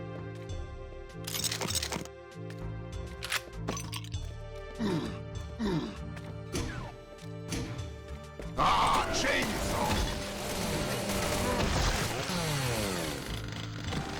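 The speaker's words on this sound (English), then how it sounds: "So I like the way this mod introduces you to various aspects, like the chainsaw there." Chainsaw in the Doom mod UAC Ultra, revving loud and close amid game music and combat noise, with a dense buzzing rush of sustained engine grind in the second half.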